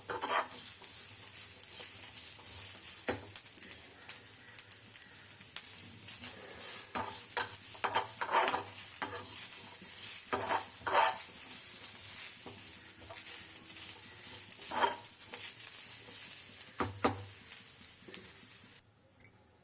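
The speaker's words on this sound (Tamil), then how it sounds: "கொஞ்சம் வெங்காயம் மட்டும் இதில் போட்டுருக்கேன். ரெண்டுத்தையும் வதக்கி அரைச்சிக்கிறேன்." Onions sauté in a pan for a bitter gourd gravy, giving a quiet, continuous sizzle with intermittent stirring scrapes and clinks. No speech is heard.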